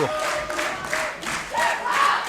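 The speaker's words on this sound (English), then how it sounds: "The crowd getting behind Becky James." Arena crowd at a women's wrestling match cheers and roars for Becky James, a steady wash of voices with swelling shouts and whoops.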